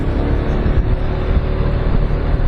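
A 600 cc motorcycle engine revs hard close by, producing a loud, dense, steady roar with slight pulsing throughout.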